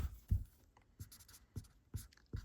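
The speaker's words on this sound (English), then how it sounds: "I will go with the green on the Mark Plus and do a double line here" A green Mark Plus highlighter drawing a double line across paper, heard as a series of soft, scratchy strokes with short gaps between them, quiet and close.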